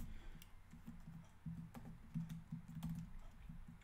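Soft, close keyboard clicks while coding Swift in Xcode, irregular taps and short bursts over a faint background hum, with no talking.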